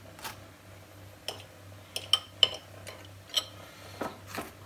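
Metal toast tongs lift crumpets out of a Breville 4-slice toaster, giving a few sharp, light clicks and taps spread unevenly over a low steady hum, close by and fairly quiet.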